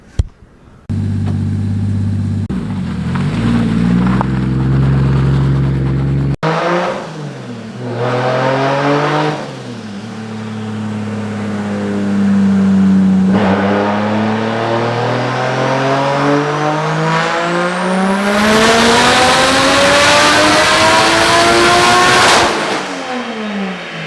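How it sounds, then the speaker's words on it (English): A car engine on a dyno, revved hard through several long sweeps: the pitch climbs steadily to a high scream, drops back, then climbs again. Loud and continuous throughout, with no talking. "we're going to get some clips of his car in the dyno, see what his car makes"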